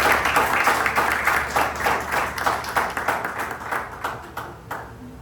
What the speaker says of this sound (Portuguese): Se coloque de pé, irmão, aplauda Jesus.